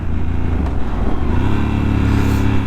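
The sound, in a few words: Triumph Scrambler 1200 XE motorcycle engine braking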